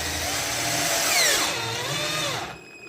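A power drill drives screws into a neon sign board, the motor whirring steadily with a rising and falling pitch for a few seconds before it cuts out, close and loud.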